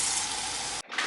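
Cold water pours into a measuring cup in a steady rushing gush, close and fairly loud, then stops abruptly before a short final splash.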